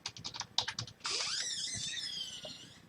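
Several quick keystrokes on a computer keyboard, crisp and close, followed by a longer sustained whooshing tone that fades out.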